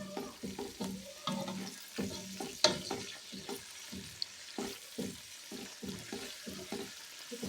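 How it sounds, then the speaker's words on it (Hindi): Garlic paste being fried with onions in a pan for kadhi, giving a soft, steady sizzle under repeated scraping stirs with a spoon, fairly quiet and close, with an occasional clink and no speech. "इसको भी प्याज के साथ भून लेते हैं।"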